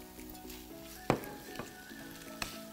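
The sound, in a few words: tuna frying in sautéed tomato paste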